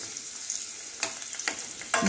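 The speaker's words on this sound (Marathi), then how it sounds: "लसणाला आपल्याला थोडंसं परतून घ्यायचं आहे।" Garlic sautéing in hot oil in a pan for a carrot-radish pickle, a soft steady sizzle with a few sharp stirring scrapes and clinks, close and alone.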